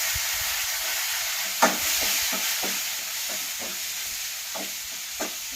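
Tomatoes and garlic fry in a pan for a village-style potato gravy, giving a steady, loud sizzle with soft stirring scrapes tapping in at irregular intervals.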